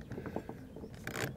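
Screw being driven into a Ronin Boxlink tie-down plate, a quiet ratcheting, grinding series of short clicks and turns close to the work, ending in a brief rougher scrape.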